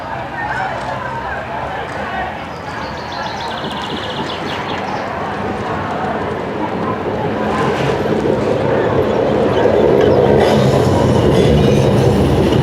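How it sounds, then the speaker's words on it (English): A tram rolls along Plantage Middellaan, a car-free Amsterdam street, its low rumble building steadily and growing louder toward the end, with a faint squeal and rattling wheel clatter over street ambience. "Here comes the tram."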